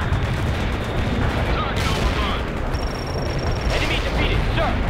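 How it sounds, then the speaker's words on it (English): Dense, continuous battlefield gunfire and explosions from the video game World in Conflict roar loudly throughout, a heavy rumbling barrage with overlapping bursts and a voice speaking over it. "They're firing at us."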